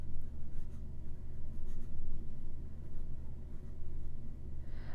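Pen writing by hand on paper, a steady scratching that runs continuously through the whole stretch over a low background hum, fairly close and moderately quiet, with no talking.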